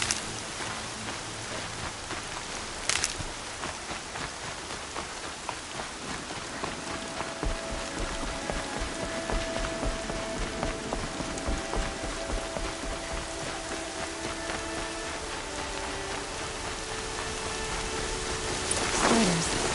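Steady rain hisses throughout in the video game Horizon Zero Dawn, a dense broadband wash with faint tones and a brief sharp burst near the start and a swell at the end.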